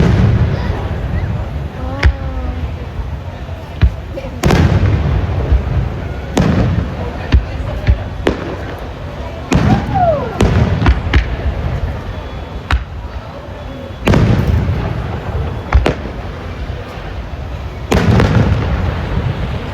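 Repeated loud bangs and booming bursts of a Fourth of July fireworks display at irregular intervals, with crackling and a rumbling crowd-like background between the blasts.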